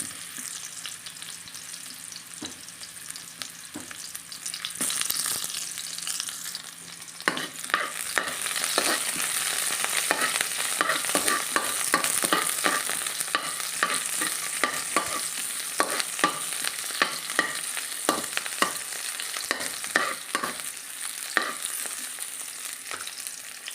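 Chopped onion frying in a pan alongside ginger for chicken adobo, a steady broadband sizzle with frequent clicks and scrapes of a spatula stirring, loud and close throughout with no talking.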